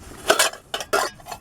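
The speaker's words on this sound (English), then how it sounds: "empty the beans into one of these pots" Beans tipped into metal camping cooking pots at a tent day camp, with a few clattering, scraping bursts of food and metal close by, separated by brief pauses.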